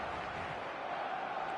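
A packed stadium crowd in the eFootball video game produces a steady, dense roar that stays at an even level throughout, with no distinct cheers or chants standing out.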